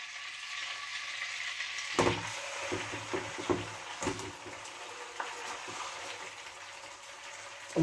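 Roast pheasant bubbles and sizzles in a pan with a steady frying hiss, broken by clinks and scrapes of stirring, close and alone without talking.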